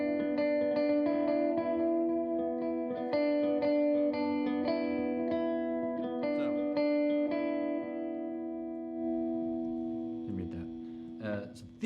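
An electric guitar plays sustained notes and chords through a G211 delay pedal, with repeats smearing into a continuous echoing wash, fairly steady and moderately loud.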